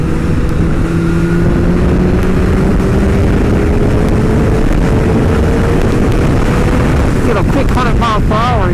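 Superbike motorcycle accelerating hard to about 100 mph, a steady engine drone with rising tones under heavy wind rush, continuous and loud for the whole stretch, with a few sharper pitch sweeps near the end.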